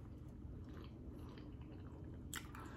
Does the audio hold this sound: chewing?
yes